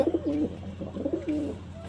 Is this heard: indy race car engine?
no